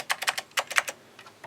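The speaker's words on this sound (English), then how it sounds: "Sounds like a good keyboard." Keystrokes on the keyboard of a slightly yellowed Apple IIc computer, a quick cluster of crisp, close clicks followed by a few fainter taps trailing off, with no voices.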